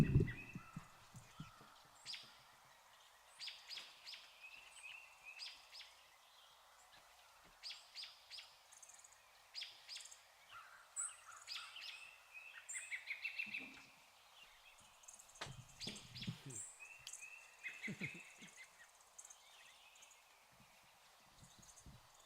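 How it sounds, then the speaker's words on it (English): Birds sing outdoors in a quiet, light scatter of high chirps and short calls, with a few soft low thumps between them and no talking. "I'll leave you with the birds."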